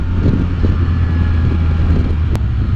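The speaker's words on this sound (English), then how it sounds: "for me the wind is starting right up here about my visor or the top of my head" Steady, loud wind buffeting the rider on a moving Can-Am Spyder F3-T, a constant low roaring rush with engine drone beneath it and no speech.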